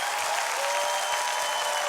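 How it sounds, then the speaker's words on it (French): A studio audience at a French television music show applauds the performers, a dense sustained wash of clapping from a large crowd, loud and even from start to finish. "Applaudissements s'il vous plaît"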